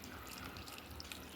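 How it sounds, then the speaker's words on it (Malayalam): Water poured into a pan holding rose apple pieces and chopped ginger while making rose apple squash, heard as a soft, steady trickle with faint dripping and splashing throughout. "ഇതിലേക്ക് കുറച്ച് വെള്ളം ഒഴിക്കണം."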